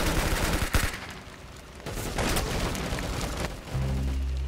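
Gunfire from a weapon in the Roblox game Arsenal, a few sharp bursts of shots with crackling echoes and brief pauses between them, fairly close and loud.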